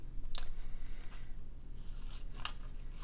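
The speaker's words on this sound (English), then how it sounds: "I'm just going to use my scissors to trim this one down" Scissors trim a paper cutout for a beach-themed collage, giving two quick, crisp snips about two seconds apart over a faint steady room hum, with no talking.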